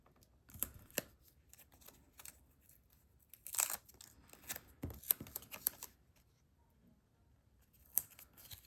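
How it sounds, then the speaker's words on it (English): Foam tape torn in half by hand for a Halloween papercraft piece, heard as a few quiet, close tearing and crinkling bursts scattered among soft handling noises, with no one talking. "And then I'm going to grab some foam tape for this piece. I'm just going to tear it basically in half."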